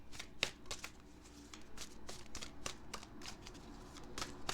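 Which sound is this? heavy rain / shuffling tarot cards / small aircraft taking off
shuffling tarot cards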